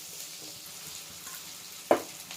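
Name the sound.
puffed rice added to frying tomato in a pan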